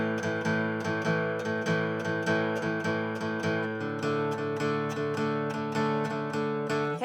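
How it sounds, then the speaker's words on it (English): Acoustic or electric guitar strumming a 12-bar blues with a bouncing shuffle rhythm, steady repeated strokes sustained throughout with no voice over it. "we're going to add in a shuffle rhythm, which is a very, very popular rhythm in the blues."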